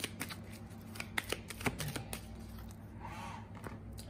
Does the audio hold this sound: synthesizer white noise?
no